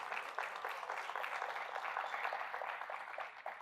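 Applause at a health-system presentation, many hands clapping in a dense, continuous burst that stays steady and fairly even from start to finish.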